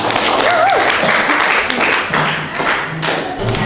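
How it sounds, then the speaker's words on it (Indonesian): Classroom audience applause after a recited Indonesian passage, a dense wash of clapping filling the whole stretch, loud and close, with a few voices mixed in underneath. "Terima kasih tepuk tangan buat semua."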